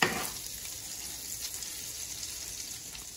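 French toast bites fry in butter in a pan, a steady close sizzle with a brief louder burst at the start as they are flipped, then an even crackling hiss.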